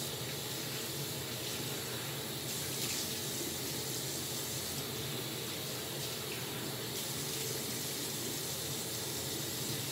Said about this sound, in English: Just give me a sec to wash my face here.